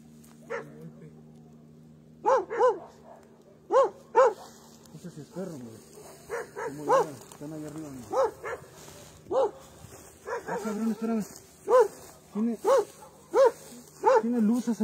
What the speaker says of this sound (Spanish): ¿Ves aquí atrás el perro, eh?